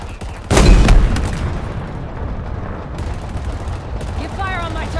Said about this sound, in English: Firing on the target.